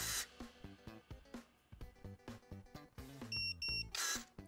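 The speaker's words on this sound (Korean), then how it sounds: "삐삐 두 번의 소리와 함께 이빨이 작아지는 걸 볼 수가 있죠" Battery-powered electric pruning shears emit two short, clear electronic beeps near the end, heard close up over background music while the blade opening is adjusted.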